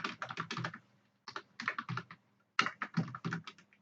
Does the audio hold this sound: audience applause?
no